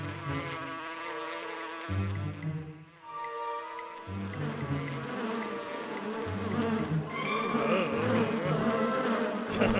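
Cartoon bees buzz in a busy, sustained drone under layered background music, staying loud and steady throughout with no speech on top.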